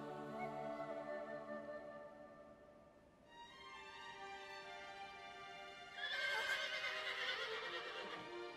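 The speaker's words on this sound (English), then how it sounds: "Oh, she's got the frickin' horse." A horse in Shadow of the Colossus whinnies with a clear harmonic cry, swelling louder near the end over a steady game ambience, with no talking.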